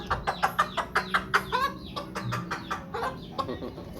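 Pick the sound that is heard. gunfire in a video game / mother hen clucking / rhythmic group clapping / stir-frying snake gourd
mother hen clucking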